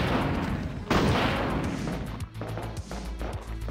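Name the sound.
gun firing explosive rounds in a Resident Evil 2 mod video game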